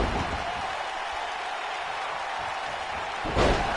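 Hurricanrana impact in the WWE 2K19 wrestling game, a single thud near the end against a steady hiss of arena crowd noise.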